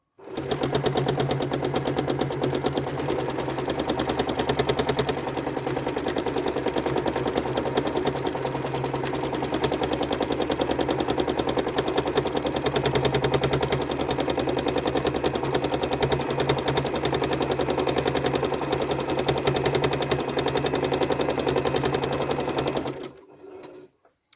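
A sewing machine stitches curved lines across a quilt, its rapid needle chatter running steadily and close for about twenty-three seconds before stopping abruptly, with no voices over it.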